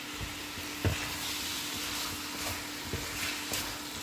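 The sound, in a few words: stirring and sizzling Kerala pork roast in a pan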